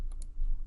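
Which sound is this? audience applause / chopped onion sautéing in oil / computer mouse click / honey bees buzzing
computer mouse click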